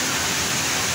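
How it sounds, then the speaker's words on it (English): Steady, dense rush of falling water from the tall indoor waterfall at Jewel, Changi Airport in Singapore, a continuous broadband roar without breaks. "The world's tallest indoor waterfall."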